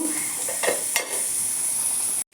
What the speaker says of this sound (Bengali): দেখো ঘি আর সাদা তেল দিয়ে একটু কাজু বাদাম আর কিশমিশ আমি ভেজে নিলাম